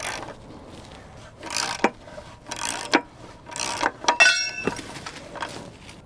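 Seized bolt being forced out of a Yamaha outboard anode, a series of sharp creaks, clicks and grinding scrapes in irregular bursts, close up and fairly quiet, no talking.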